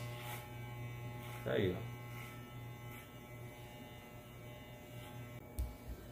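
An electric hair clipper with a comb guard hums steadily at low volume while trimming hair in a haircut, with a brief spoken word over the buzz.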